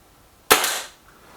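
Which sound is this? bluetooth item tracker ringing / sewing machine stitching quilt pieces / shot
shot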